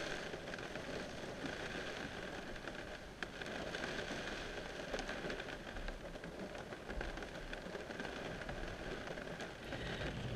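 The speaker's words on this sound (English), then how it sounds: "It's still raining like crazy." Heavy rain drums steadily on an electric car during a wet drive toward Londonderry, a dense, continuous hiss filling the whole stretch with no voices.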